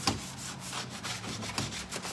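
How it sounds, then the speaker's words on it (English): Hand sanding of a painted wooden furniture set, lightly scuffing the surface rather than taking it to bare wood: steady rasping strokes of abrasive on wood repeat in a loose rhythm, close up and alone. "I'm not sanding it to bare wood or anything. I'm just knocking the surface down"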